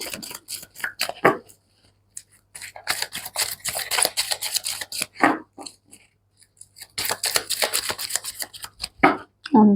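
Tarot cards riffle and snap in repeated bursts of shuffling, with short quiet gaps between flurries and single cards flicked down, close and fairly loud with no talking.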